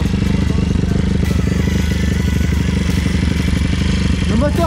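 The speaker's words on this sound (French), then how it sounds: "Le moteur tourne très bien, il n'y a pas de problème." A Kawasaki KLX 160 fitted with a two-stroke engine runs steadily at close range, a loud rapid crackling buzz with a slight pitch rise near the end, and talking over it.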